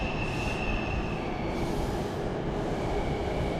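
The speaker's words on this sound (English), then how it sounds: "There we go, our train back into the cities here." A train rolls into a station platform with steady rumbling, wheels squealing in a high sustained whine, loud and close with no voices.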